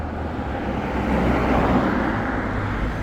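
A Porsche passes on a road in the UK, its broad engine and tyre rumble swelling up and then easing away over steady traffic noise.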